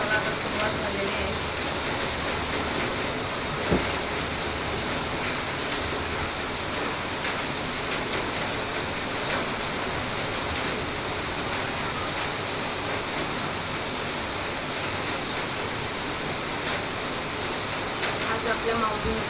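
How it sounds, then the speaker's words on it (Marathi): Steady rain falls through the whole stretch as a dense, even hiss with no breaks or drops, and no one speaks over it. "पावसाला आता सुरुवात झालेली आहे."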